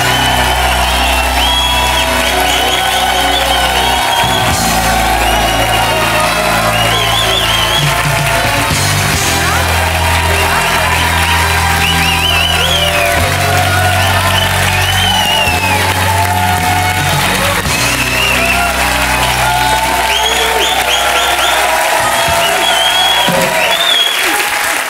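Loud, sustained applause and cheering from a French TV talk-show studio audience, with whoops and shouts over continuous clapping while music plays underneath throughout.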